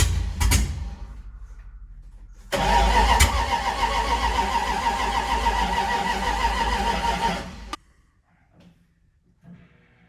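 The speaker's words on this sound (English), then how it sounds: "You're probably gonna have to crank it." A truck engine cranks for about two seconds, catches and runs loudly close by for roughly five seconds, then cuts off abruptly into near silence.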